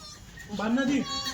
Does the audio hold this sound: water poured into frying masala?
no